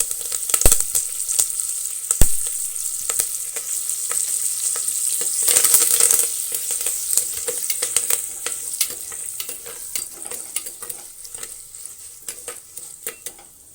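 Red chilies and curry leaves sizzle and crackle in hot oil in a pan while making gongura pachadi, with a steady frying hiss, occasional spoon stirs and scrapes against the metal pan.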